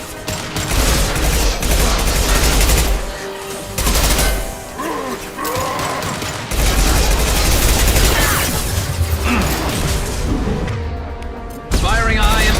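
Sustained bursts of gunfire in the Mass Effect 2 game, loud and nearly continuous, with brief pauses and voices talking over the shooting.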